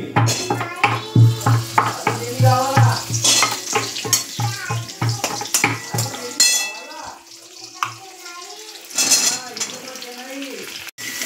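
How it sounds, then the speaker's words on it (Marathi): Sakaru sweets fry in ghee for a Hartalika Teej festival treat, with a steady sizzle and rhythmic stirring in the first half that thins out toward the end. Voices can be heard over the cooking. "हे तूपमध्ये मस्त फ्राय करून घ्यायचे."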